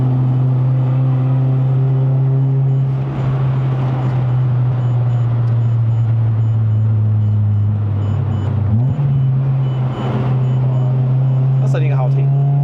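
A Mitsubishi Lancer Sportback with a 2.4L engine and five-speed manual pulls hard under acceleration on a mountain road run in Malaysia, a loud steady engine drone from inside the cabin that rises, dips briefly at a gear change, then climbs again.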